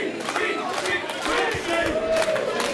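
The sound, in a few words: wrestling crowd cheering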